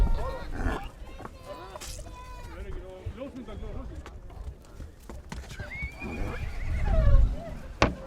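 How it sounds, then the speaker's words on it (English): Icelandic horses arrive in an outdoor enclosure during a round-up, with hooves clip-clopping and several neighs and whinnies close by, while people talk throughout. "I think there are horses coming into this enclosure"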